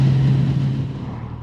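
Kawasaki Z1000SX motorcycle being ridden, a steady low engine drone with wind rush that holds briefly and then fades slightly, heard alone and fairly close.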